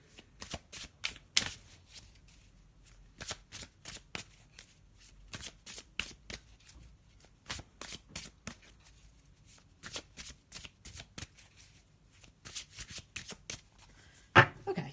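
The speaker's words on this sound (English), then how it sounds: "So I'm just going to have a little shuffle." Tarot cards shuffled by hand in quiet surroundings, a long series of crisp flicking bursts in uneven clusters, close up.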